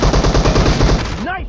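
Rapid automatic fire from a P90 submachine gun in a PUBG Mobile team deathmatch, a dense, loud, steady burst lasting over a second before cutting off into a brief electronic game tone.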